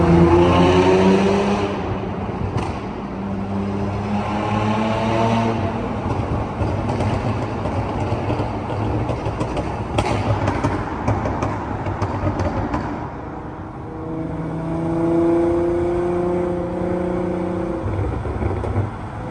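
A supercharged Audi cruises through downtown Portland, its engine rising and falling through several revving pulls and gear changes, with a fairly close, throaty tone and brief lulls between accelerations.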